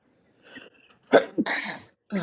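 A single sneeze from a man at a youth baseball coaches' interview, sharp and close, followed by a brief sniff and breath.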